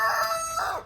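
A rooster crows once in a backyard chicken run, a close, loud, strained call that rises then falls and trails off, with no talking over it.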